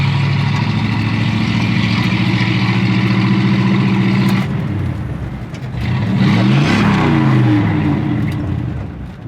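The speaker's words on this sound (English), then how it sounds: "we make a little bit more noise with the 5-inch open exhaust" A loud Hemi V8 in a Ford Mustang idles with a deep, throaty rumble through a 5-inch open exhaust, dips briefly, then revs up with a rising, raspy roar.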